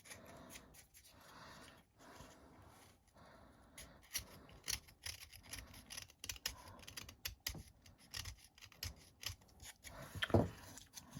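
A sharp blade trimming pieces for a bottle corner shelf module, close and quiet scraping and snipping strokes in irregular bursts, with small clicks and a louder scrape near the end.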